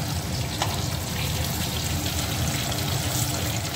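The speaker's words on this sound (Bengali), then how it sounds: "তো ঠিক বন্ধুরা এইভাবেই ভেজে নিতে হবে," Bitter gourd slices fry in hot oil with a steady, even crackle that holds at the same level throughout, with no talking.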